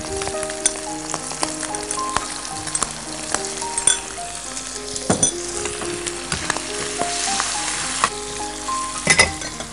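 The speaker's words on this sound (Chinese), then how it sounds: "现在煸这个肉呢，要把多余的水分煸出来" Pork belly stir-fried in a wok with soy sauce for dried-vegetable braised pork, sizzling loudly and steadily throughout, with scattered clinks of the spatula against the wok and no talking.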